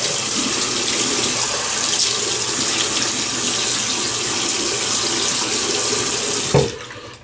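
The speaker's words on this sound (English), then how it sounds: "So let me wet the face." Water runs steadily from a tap into a sink to wet the face before a shave, a continuous close splashing rush that cuts off abruptly near the end.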